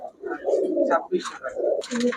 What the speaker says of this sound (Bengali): এগুলা খাতার কবুতর তো না ভাই এগুলা উড়ানোর কবুতর ভাই